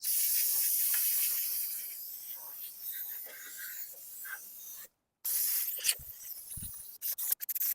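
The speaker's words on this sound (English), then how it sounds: "I hose it down with some brake clean to get rid of some of the dust" A steady aerosol spray of brake cleaner hisses continuously for about five seconds onto Honda Pilot brakes, close and loud, followed by a pause and some clattering handling sounds.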